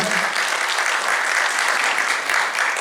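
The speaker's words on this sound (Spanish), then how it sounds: "¡Aplausos!" Audience applause at a theatre event: a dense, continuous wash of clapping from many hands. It holds loud and even throughout, with no talk over it.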